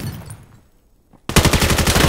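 Loud burst of rapid automatic gunfire from a Valorant match after a short quiet stretch, close and sustained, with no talk over it.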